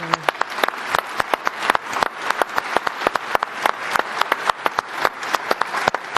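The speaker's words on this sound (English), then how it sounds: "Let us give His Holiness a round of applause." A crowd at a World Food Day gathering applauds Pope Leo XIV with steady, sustained clapping. Sharp individual claps stand out close by, and no voices are heard.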